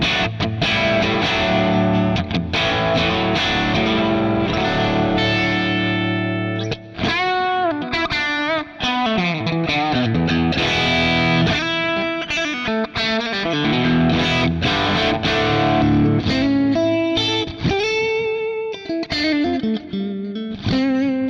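Electric guitar sound from a Telecaster played through a Matchless amp model set fairly clean, with busy chords and single-note lines held loud and steady for the whole stretch.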